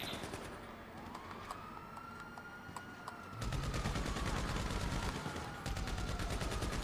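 Bursts of gunfire in GTA 5 Online as a player shoots at police, sharp repeated shots over a busy background that grows louder and denser partway through, with no talking.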